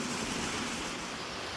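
Creek water near Clarksville Furnace rushes in a steady broadband wash, close and continuous, with no talking.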